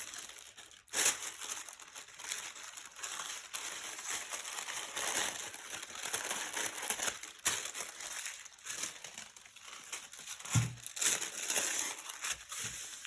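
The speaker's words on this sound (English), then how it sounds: "Do you like the crinkly sounds or not?" Continuous close crinkling and rustling of tissue paper, steady and soft with a few sharper crackles, no voices.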